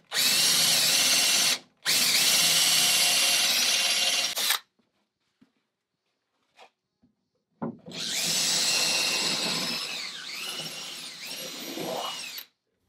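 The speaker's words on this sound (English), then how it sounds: "I'm using an auger bit with a lead screw on here to finish off drilling this pilot hole." A power drill fitted with an auger bit and lead screw bores a pilot hole through wood in three loud, close bursts of steady grinding whir. Brief pauses between them carry small knocks and clicks.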